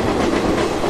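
A goods train hauled by a WAG-5 electric locomotive rushes past on the opposite line in a train simulator game, a steady loud rumble with faint wheel clatter throughout the short moment.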